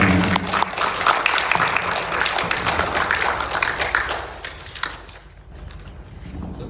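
Church congregation applauding in praise, a dense steady wash of many hands clapping that thins and fades toward the end, with a few voices mixed in.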